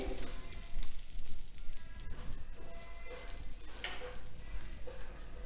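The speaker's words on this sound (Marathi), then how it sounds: "जिरे हे सगळं थोडंसं भाजून घ्यायचं आहे" Steady crackling sizzle of cumin and other spices roasting in a hot pan, with occasional scraping stirs, no voices.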